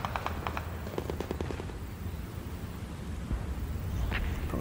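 Bursts of machine gun fire in the Combat Mission: Battle for Normandy war game, rapid rattling volleys early on that fade into a rumbling noisy battlefield backdrop.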